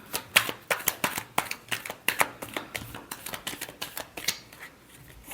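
A deck of cards is riffle-shuffled close by, giving a quick run of crisp flutters and snaps in an uneven rhythm that thins out toward the end.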